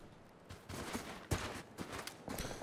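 Distant gunfire in PUBG: a string of single tapped shots, fairly faint, spaced unevenly across a few seconds, with one sharper report in the middle.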